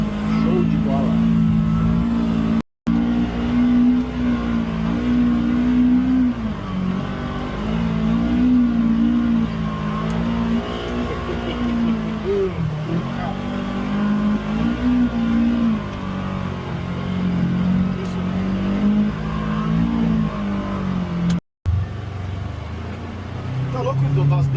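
A UTV engine revs steadily with a rising and falling drone on a muddy red-clay trail near Colina, Rio Grande do Sul. It sounds close and continuous for about twenty-five seconds, with brief cutouts.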